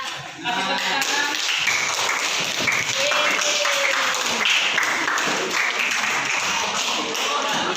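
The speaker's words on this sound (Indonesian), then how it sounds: "Kasih tepuk tangan." A classroom of students clapping together after a maths answer, a steady dense burst of applause lasting several seconds, close and loud, with faint voices mixed in.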